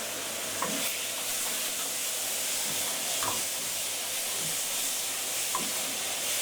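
Sliced chicken sizzling in a hot pan for butter chicken, a steady loud frying hiss with occasional soft stirring clicks, close up and continuous.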